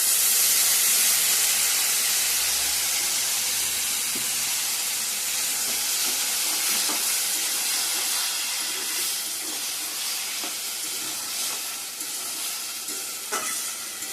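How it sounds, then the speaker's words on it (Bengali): Hot water poured into a wok of fried potatoes bursts into a loud, steady hiss of steam and sizzle, with occasional scraping stirs, slowly settling lower over the final seconds; no voices. "কড়াইটা গরম জল দিয়ে দেবো"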